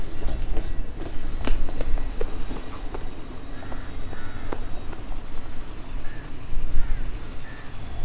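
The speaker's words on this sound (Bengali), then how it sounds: "চলো, আমাদের ট্রেন চলে এসছে, আমার নিচে গিয়ে আমাদের ট্রেন ধরতে হবে।" A train pulls into a station with a loud, continuous rumble of rolling wheels and carriages, and brief metallic squeals ring out over the clatter.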